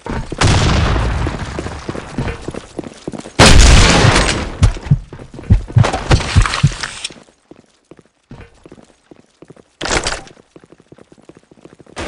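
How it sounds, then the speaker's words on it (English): Black Shot video game combat: a heavy grenade blast bursts out amid rapid gunfire, followed by scattered shots and another sharp burst later, loud and punchy against quieter gaps. "Grenade!"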